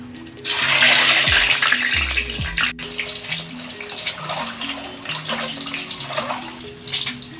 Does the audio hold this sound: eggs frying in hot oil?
yes